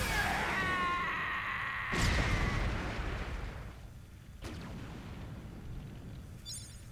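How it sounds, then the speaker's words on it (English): An explosion in the Kamen Rider Memory of Heroez video game roars loudly, followed by a deep booming burst and a sharp crack as the rumble fades. "Your kick caused a bigger explosion than he did."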